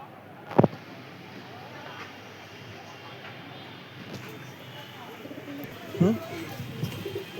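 Pigeons in a home loft, including a male bird of Chennai blood, give soft cooing calls, with two brief clearer bursts near the start and toward the end over a low, steady background murmur.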